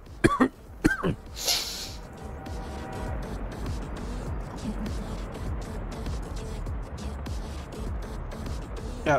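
A few sharp coughs and throat clearing burst out close by at the start, then give way to a steady low rumble of background noise.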